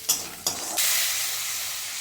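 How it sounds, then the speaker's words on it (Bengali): Mung dal dropped into hot oil in a home kitchen pan, with two short bursts of sizzle followed by a loud, steady frying hiss that continues alone. "প্রথমে মুগ ডালটা ভেজে নেব।"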